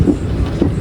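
A passenger train rolls along tracks near Vijayawada, giving a brief, loud, close rumble with two rhythmic wheel thumps about half a second apart.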